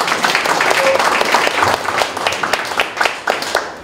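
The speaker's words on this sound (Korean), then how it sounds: "박수 한번 부탁드리겠습니다" An audience at a lecture for a CEO course claps at a steady, moderate level, with many individual claps audible in the stream.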